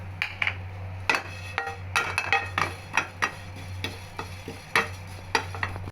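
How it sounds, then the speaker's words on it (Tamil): Sesame seeds dry-roasted in a pan for ragi laddu are stirred with a utensil, which scrapes and taps against the metal in a steady series of sharp strokes over a constant low hum. "அடுத்தது எள்ளு வறுத்து எடுத்துடலாம்."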